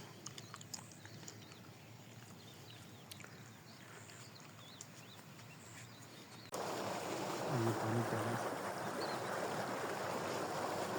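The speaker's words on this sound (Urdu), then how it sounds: "یہ پانی کا جو ساؤنڈ ہے نا، یہ مجھے بڑا اچھا لگتا ہے" Irrigation water from a running tube well pours steadily onto a berseem field in a village on a winter morning, a soft trickle that swells into a loud, continuous rushing gush partway through.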